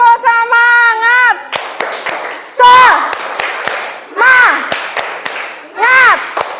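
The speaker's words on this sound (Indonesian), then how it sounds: "sekarang tepuk semangat" Children do a rhythmic classroom clapping chant, with bursts of sharp, close claps broken up by sung voices, the pattern repeating several times in quick succession.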